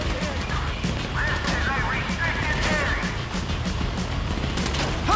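A GTA 5 heist shootout rattles on with sustained gunfire, crashing bursts and impacts layered over a busy, loud battle din, and voices can be heard mixed in.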